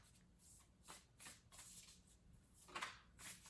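Tarot-style cards being shuffled by hand, several short riffling bursts in an uneven rhythm, quiet and close with no talking.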